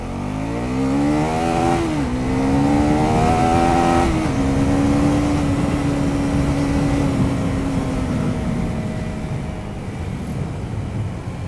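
A Husqvarna Svartpilen 401 motorcycle engine under way: it revs up through a couple of gear changes, then settles into a steady, loud drone that fades slightly toward the end.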